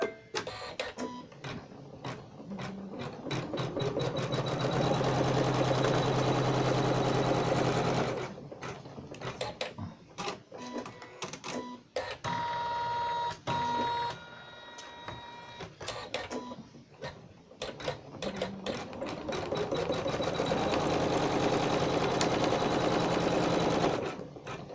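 An embroidery machine stitching two horizontal lines on an in-the-hoop bedside coaster: a loud, fast, continuous mechanical whirring and tapping that runs for most of the clip, breaking into choppier stop-start stitching in the middle, with no talking.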